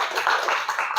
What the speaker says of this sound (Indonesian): kasih tepuk tangan untuk Nadira.